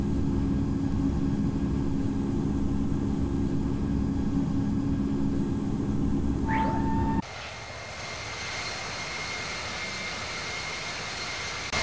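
Airbus A340 engines in the Infinite Flight game spool up for a go-around: a loud, steady jet roar that abruptly cuts to a thinner, quieter whine partway through, with no voices.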